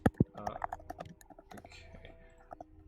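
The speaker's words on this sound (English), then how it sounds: "I hear someone who is typing very loud." Loud typing on a computer keyboard during a tabletop role-playing session, with sharp clustered key clicks close to the microphone, busier at first and then a steady patter of lighter taps.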